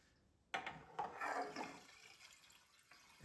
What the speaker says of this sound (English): Filling with the Justrite can.